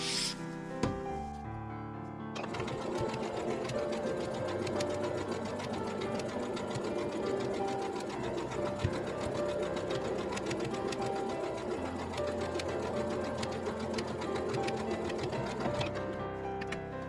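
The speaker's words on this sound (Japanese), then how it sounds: "キルト線を引いたところをミシンキルトします。" A sewing machine stitches quilting lines across a hexagon patchwork tote bag, running in one steady, continuous mechanical whir with a fast rhythmic needle chatter, close and loud, after a brief start.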